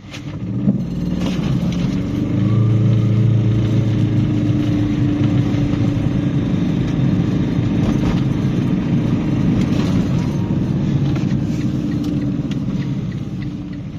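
A 2022 Aixam GTO microcar accelerates with a steady, droning engine rumble that holds at an even level throughout, with no talking over it.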